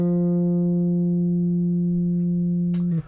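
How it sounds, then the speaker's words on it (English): A guitar runs through a SpectraDrive pedal set for subtle fuzz, one long sustained note ringing steadily with a slightly gritty edge before a sharp scratchy cutoff near the end. "it's quite a subtle sort of fuzz. You can hear it on the long notes"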